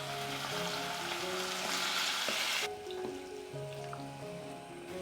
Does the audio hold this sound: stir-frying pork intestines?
yes